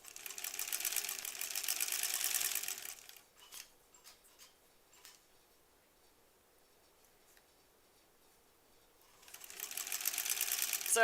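Sewing machine stitching a granny squares quilt: a steady whirring run of stitches, then a quiet pause with faint handling clicks, then the machine starts again near the end, close and alone.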